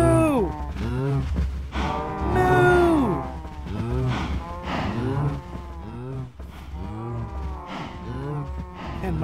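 Cows in Minecraft moo repeatedly in drawn-out, overlapping lowing calls with a slight echo, several animals close by and loud throughout.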